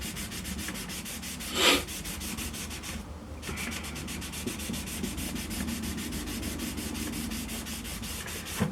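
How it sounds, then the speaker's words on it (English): A surface rubbed down with a cloth, a quiet continuous scrubbing rhythm of short repeated strokes, with brief louder bumps mixed in. "So to get a cloth and rub it down."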